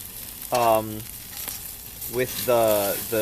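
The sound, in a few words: bacon-wrapped asparagus frying as pieces are flipped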